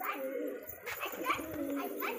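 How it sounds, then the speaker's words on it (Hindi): Pigeons coo in soft, throaty rolling calls nearby, with several birds overlapping and a faint murmur of voices underneath. "बेहतरीन कबूतर एकदम"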